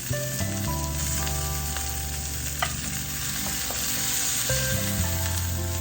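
A NY strip steak sears on high heat in a hot pan, a loud, continuous close-up sizzle with crackling pops, while a steady hum runs underneath.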